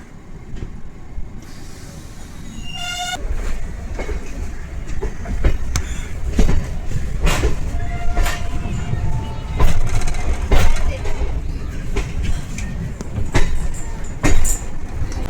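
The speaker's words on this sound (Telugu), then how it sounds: "మనకి ఏమో అవుట్ ఫ్రంట్ ప్లాట్ఫామ్లో ఏదో మెమో ట్రైన్ ఉందండి" A MEMU train rolls along beside a station platform, wheels clacking in an irregular rhythm over a deep rumble, with a few brief tonal chirps early on.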